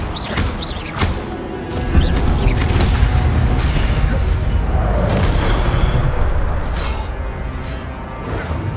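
Incendio fire spell cast during a battle against a Pensieve Sentry in Hogwarts Legacy, heard as a dense stream of booming, crashing magical blasts and rumbling impacts that stays loud and continuous throughout.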